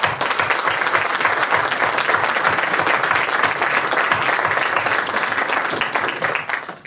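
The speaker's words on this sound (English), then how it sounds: "I think we should give these folks a round of applause." Sustained applause from a seated audience at a school board candidates' forum, steady dense clapping throughout with no voices over it, fading slightly at the very end.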